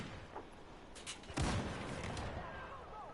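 UMP-9 submachine gun fire in Battlefield 4, bursts of shots with a heavy blast around the middle, followed by a dense rolling layer of gameplay noise.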